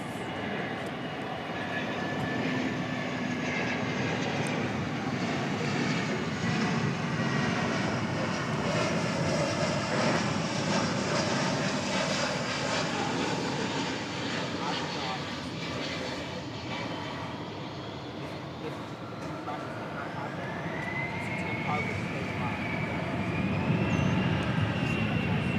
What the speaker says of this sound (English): Coming up is an Airbus A380, American Flight 641, arriving from Austin, Texas, our state capital.